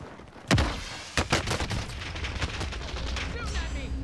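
Gunfire in the video game Call of Duty Warzone on the Rebirth Island Resurgence map: a loud close shot with a booming tail, then several more bursts over a rumbling background.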